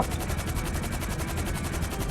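Rapid automatic gunfire in GTA V rattles in a fast, even stream of bursts, loud and unbroken throughout.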